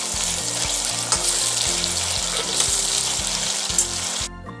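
Chopped tomatoes go into a pan of onions frying for dal khichdi, giving a loud, steady sizzle with a few soft clinks before it cuts off abruptly at the end.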